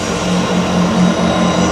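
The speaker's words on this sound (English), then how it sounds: "That's a really loud train." A loud passing train in Newcastle rumbles with a broad steady roar and a droning low hum, close by and continuous for the whole short stretch, with no talking.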